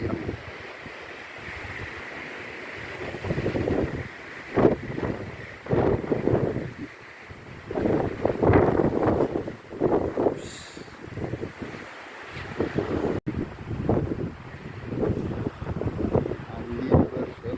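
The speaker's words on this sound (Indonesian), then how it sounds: "Angin berhembus kencang." Strong wind gusts across a mountain trail on Mount Kawi, a loud, continuous roar that surges and buffets the microphone in waves, with no talking.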